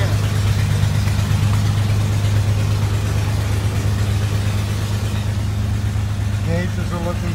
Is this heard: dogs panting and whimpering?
no